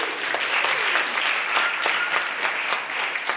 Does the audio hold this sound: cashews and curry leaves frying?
no